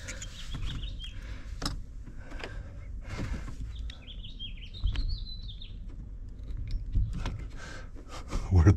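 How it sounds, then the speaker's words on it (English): Birds chirp and tweet outdoors in the morning, short high calls scattered over a few seconds near a truck camper, mixed with handling clatter and a faint jangle of keys. "Birds are chirping this morning."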